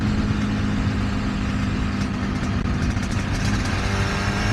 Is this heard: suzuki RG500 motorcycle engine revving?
yes